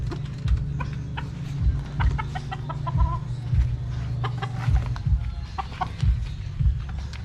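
Chickens cluck close by in a backyard flock, with a steady run of short, repeated clucks and a few sharper calls over a constant low hum.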